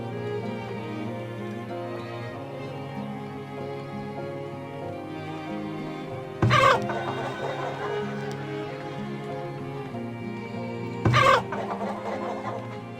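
Chickens cluck continuously in the farming game Farthest Frontier, layered over tonal background music. Two short loud bursts break in partway through.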